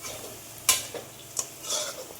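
Palm-fruit pitha filling with added nuts stirred in a pan, a few distinct scraping strokes of a spoon against the metal with quiet gaps between them, close and moderately loud, no voices.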